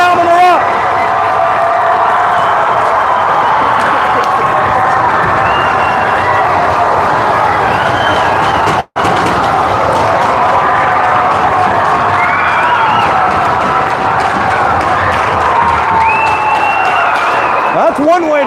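A high school hockey crowd at a Bourne game roars and cheers after an early goal, a loud, sustained swell of shouts and clapping that runs throughout, with a commentator talking over it.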